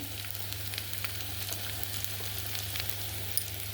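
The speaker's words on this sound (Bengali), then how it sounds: "আদা বাটাটা একটু কষে নেব" Ginger paste cooks with fried chopped onion in a pan, producing a soft, even sizzle at low level with a steady background hum and a couple of faint clicks near the end.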